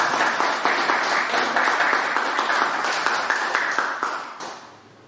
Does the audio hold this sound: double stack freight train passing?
no